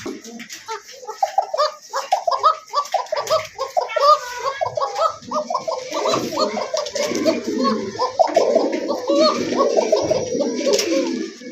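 A pair of Lahori pigeons coo continuously and close by, with throaty rolling calls layered over faint voices in the background.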